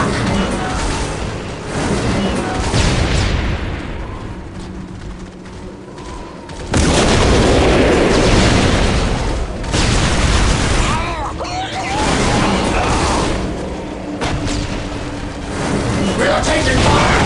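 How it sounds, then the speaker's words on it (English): Battle in Warhammer 40K Dawn of War Dark Crusade: loud bursts of gunfire and booming explosions roll in waves, dropping briefly and surging back, with shouted voices over the combat. "We are taking fire!"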